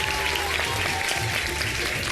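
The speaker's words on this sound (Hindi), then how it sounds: "जरा तालियां बजा दें एक दफा" Studio audience applause on a live Ramadan iftar TV show, a dense, steady burst of clapping from many hands filling the short moment, close and even.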